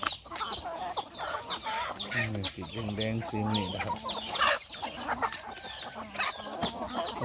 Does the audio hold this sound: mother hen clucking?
yes